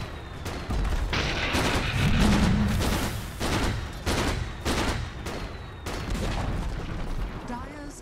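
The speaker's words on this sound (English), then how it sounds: "Dire's top tower is under attack." Dota 2 Turbo match in which a tower comes under attack, with a dense, continuous barrage of loud overlapping impacts, bursts and booms and a voice speaking over the clash.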